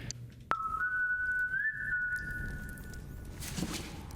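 A character whistles in the video game Ghost of a Tale: a sharp click, then a sustained clear whistled tone with a small upward bend, fading out as a soft rustle follows.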